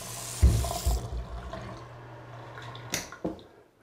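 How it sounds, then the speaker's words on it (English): Water runs from a tap into a sink in a preowned Gardenia model home in The Villa, heard as a few short splashing bursts and gurgles close by, with quieter trickling between. "got the water going"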